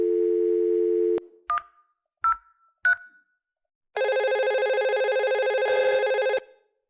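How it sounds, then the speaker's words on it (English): A VoIP desk phone in a smart office setup plays a steady dial tone, then a few short dialing beeps, followed by a sustained higher ringback tone, clear and close with no speech. "he can dial his number"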